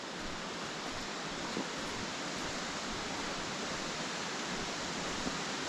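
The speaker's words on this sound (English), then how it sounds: "Right, here we are at the waterfall." A fast-running waterfall on estate grounds, a steady broadband rush of falling water roaring continuously and evenly from nearby, with no voices.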